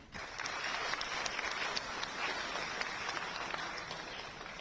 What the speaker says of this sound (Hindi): आप आनंद लेकर के ताली बजा सकते हो।